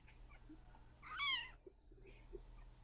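A single clear cat meow, drawn out and slightly rising, sounds close by against a quiet room with a low steady hum.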